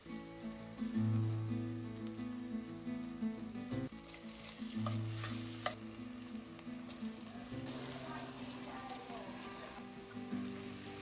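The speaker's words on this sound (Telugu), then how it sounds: "ఫస్ట్ ఆయిల్లో ఉల్లిపాయలు, పచ్చిమిరపకాయలు వేసేసాను, కొంచెము పసుపు వేసాను త్వరగా మగ్గుతాయి అనేసి" Onions and green chillies with turmeric sizzle in oil, a continuous hiss under a low steady background hum, with occasional stirring scrapes and clicks, close and quiet, no speech.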